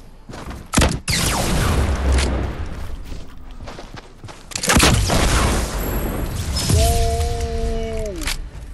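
A video game explosion as a player blows himself up, with loud booming blasts and crashing debris, a couple of heavy hits close together, then a rumbling aftermath and a brief tonal game sound near the end.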